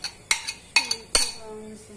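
Metal utensils clinking against a plate while serving a meze dish, three or four sharp ringing clinks with short fading tones, close and fairly quiet with no talking.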